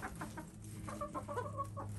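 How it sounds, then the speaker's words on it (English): Chickens cluck softly inside a coop among a friendly, mixed flock on a cold winter day, with a steady low murmur and scattered short calls close by and no talking. "We have friendly chickens"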